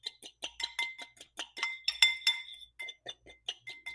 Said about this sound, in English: we're literally just going to kind of whisk this up in the corner of our bowl